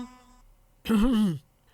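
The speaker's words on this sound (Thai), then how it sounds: "เสียงกระแอมของเจ้านายดังขึ้น" A man clears his throat once, a short gruff vocal rasp lasting about half a second, fairly quiet and isolated.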